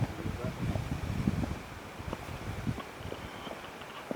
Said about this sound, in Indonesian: pohon-pohon bergoyang-goyang karena anginnya sangat kencang